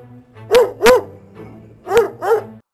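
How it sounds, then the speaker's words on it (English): Dog barking four times in two pairs, loud and close, each bark sharp and tonal over a faint steady hum, with short pauses between the pairs. "Dog barks."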